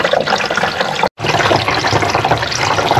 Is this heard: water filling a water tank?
yes